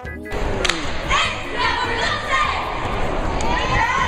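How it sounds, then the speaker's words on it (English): At a school cheerleading performance, a sharp thud marks a cheerleader falling and hitting her head, followed by a noisy crowd of shouting children and cheering voices that carry on around it. "the cheer girl tries to jump twice and falls and hurts her head"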